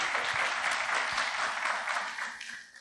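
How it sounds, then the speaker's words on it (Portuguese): Audience applause at a business training event, a dense steady wash of many hands clapping that holds throughout and thins slightly toward the end, with no talk over it. "Salve de palmas para todo mundo."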